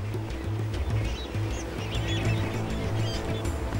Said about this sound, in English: Flamingos flock to Kenya's Lake Bogoria.